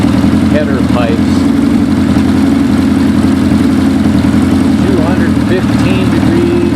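A Suzuki GS550 cafe racer motorcycle idles loudly and up close during carburetor synchronization, its steady, even exhaust pulse continuous throughout with no speech.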